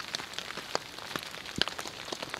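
Rain patters on a tarp at night at a riverside bush camp in Australia. Scattered close drops tap irregularly, a few of them louder, over a soft steady wash, with no talking.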